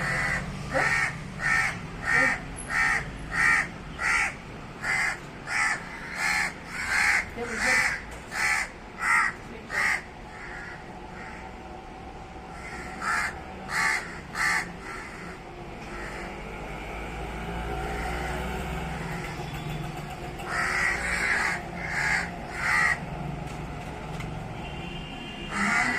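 Crows caw over and over in loud, rhythmic bursts, several birds calling back and forth above a low, steady background rumble.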